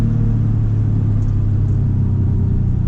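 Subaru WRX at max boost, its engine a steady, loud low rumble with a constant droning tone, heard from inside the car throughout with no talking.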